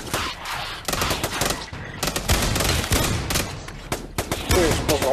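Rapid automatic gunfire from the VR shooter Pavlov on Oculus Quest 2, a zombie multiplayer match, with dense bursts of shots and loud recoil-heavy volleys running almost continuously, a voice talking faintly underneath.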